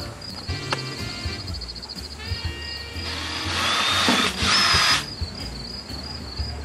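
A power drill driving a hole saw arbor bit into a plastic bucket, whining in short bursts and then one longer, louder run, with knocking and handling sounds in between.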